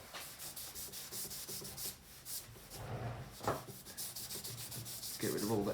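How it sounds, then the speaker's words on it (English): Little scrubber rubbed over a bonsai pot to clear algae and muck, a close, continuous gritty scrubbing in quick back-and-forth strokes, fairly soft, no speech. "I'm going to just quickly give this pot a tidy up. With a little scrubber."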